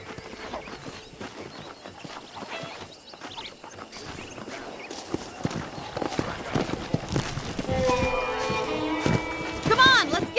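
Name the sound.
horses galloping, from the video game Red Dead Redemption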